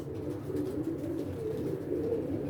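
Pigeons coo in a soft, continuous low murmur, several birds close together, with no voices.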